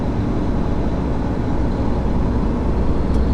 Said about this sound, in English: There's a lot of ambient noise in a truck.